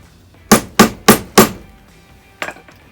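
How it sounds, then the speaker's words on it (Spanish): A hammer drives a sharpened metal tube through a plastic cutting board while building a Stirling engine piston, four loud, evenly spaced close blows followed by a fainter double knock after a pause. "Se le da con un martillo"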